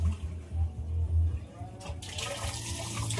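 Strong stream of water gushing from a tap, a hissing rush that swells after a moment and keeps pouring, close and fairly loud with low background rumble.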